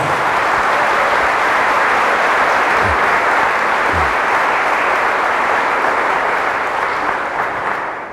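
A church congregation applauding during a Catholic priest's sermon, a loud, dense and steady roar of clapping that holds throughout and only eases slightly at the very end.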